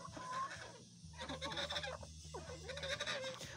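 Several backyard hens with feathered feet cluck and call in a coop, their fowl noises close and fairly continuous with a low steady hum underneath.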